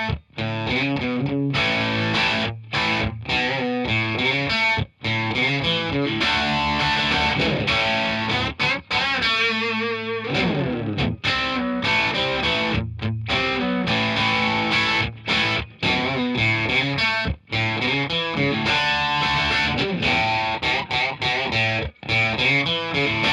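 Distorted electric guitar through a Halo delay pedal set very short with a high mix plays continuously, a quick slapback-style repeat thickening each note, loud and up close throughout.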